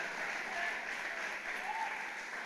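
A church congregation applauds during a sermon, with a steady, fairly faint wash of many hands clapping in the room and some voices mixed into it.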